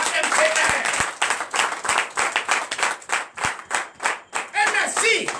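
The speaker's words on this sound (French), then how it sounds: "Donnez l'acclamation à MPR." A church congregation at a Beninese deliverance night service claps in rhythmic, steady bursts across the whole stretch, loud and close, with some voices mixed into the applause.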